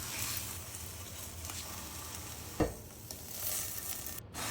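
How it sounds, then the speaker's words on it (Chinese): Thawed shrimp paste frying in a pan, a quiet, steady sizzle with stirring or scraping noises and one brief louder clatter midway, no voices. "解冻好的虾滑煎着吃吧。"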